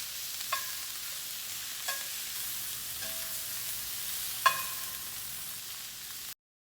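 Garlic Brussels sprouts sizzling steadily in a pan, a continuous frying hiss with a few faint clicks of stirring, alone without voices, cutting off abruptly at the end.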